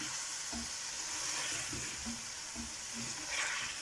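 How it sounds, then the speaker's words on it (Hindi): Chunks of beef fry in a pot for yakhni beef pulao, a soft continuous sizzle with occasional stirring knocks, close and fairly quiet. "ये हमने गोश्त डाल लिया और 15 मिनट तक हम इसकी भुनाई करेंगे अच्छी तरह।"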